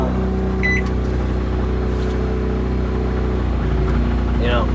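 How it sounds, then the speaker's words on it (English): A portable generator hums steadily and loudly as it strains under the load of a running microwave oven, its low drone continuous throughout, with brief faint beeps and a little background talk. "you can hear that generator getting pulled, the load being put on it"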